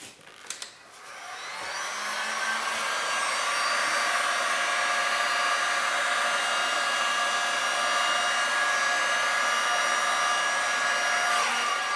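A heat tool blows steadily at close range, gently warming white resin poured onto a tile; the hiss starts after a brief clatter and holds at an even level.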